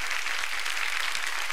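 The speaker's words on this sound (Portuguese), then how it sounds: "Acho que ele merece uma salva de palmas." A studio audience on a Brazilian TV talk show breaks into applause, a dense steady wash of clapping lasting under two seconds with no voices over it.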